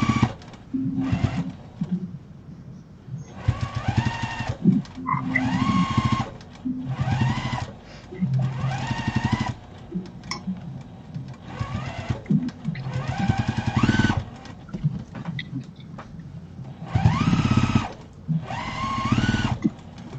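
A sewing machine stitches quilting lines across a puffy fabric bowl in repeated bursts of rapid whirring, each run lasting a second or two with short pauses, close and loud.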